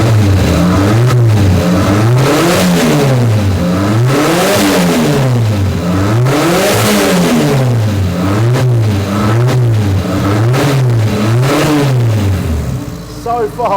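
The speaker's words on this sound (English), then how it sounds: "demonstrate what 300 horsepower turbo technic still sounds like" A French car's 300 horsepower turbo engine is revved repeatedly, loud and close, climbing and falling in a steady series of rising and dropping blips with no talking over it.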